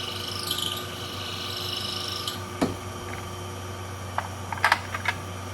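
Scraping, rasping mechanical sound of a 6mm Creedmoor brass cartridge case being trimmed with a case trimmer, with a few sharp metallic clicks and short bursts near the end, close by.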